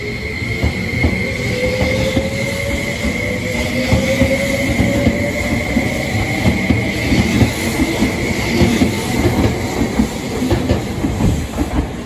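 An N100 series train pulls out of a station, with a steady rolling rumble, clicking wheels over rail joints and a rising whine as it gathers speed, heard close and loud with no talk.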